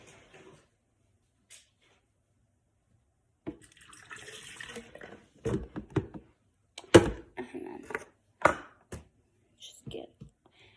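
Milk poured from a carton into a measuring cup for a strawberry banana smoothie, with brief liquid splashes and light kitchen thunks close by, while a person speaks in between.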